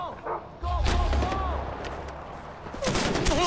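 Gunfire in the video game Far Cry 4: heavy, booming bursts of shots with a deep rumbling low end, loud and near, with brief gaps between volleys and voices shouting over them.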